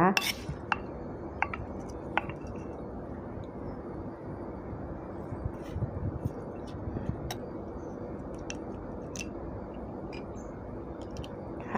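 Som tam salad being tossed with cashews in a bowl: steady scraping and mixing with sharp utensil clicks and clinks against the bowl, close and continuous, no talk.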